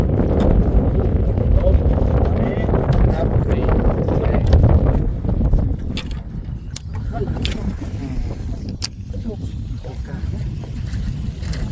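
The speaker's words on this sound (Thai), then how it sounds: "ลมแรง ลมแรงมากๆเลยครับ" Strong wind buffets the microphone out on Kwan Phayao lake, a loud continuous rumbling roar that eases slightly partway through.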